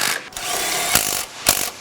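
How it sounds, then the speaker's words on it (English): A hand ratchet tightens the upper mount bolts on a Big Mo exhaust, its pawl clicking in quick close bursts, with a couple of sharp, louder strokes near the end. "now go ahead and finish tightening these upper mount bolts in"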